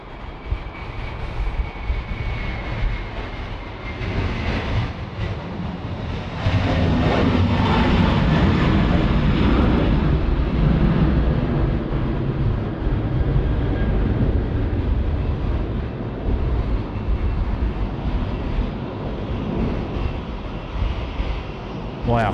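Qantas 41 airliner departing Sydney Airport for Jakarta, heard as a broad, steady engine roar and rush that swells louder partway through and holds, with a faint voice over it and wind buffeting.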